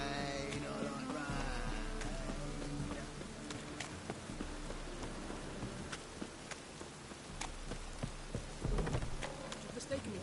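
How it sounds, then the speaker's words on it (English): Rain in the video game The Witcher 3, a soft steady patter over the whole stretch mixed with hoof clops from a horse, quiet and continuous, with some game dialogue underneath. "Rain, I like rain."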